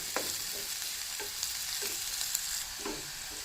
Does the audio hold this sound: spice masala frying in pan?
yes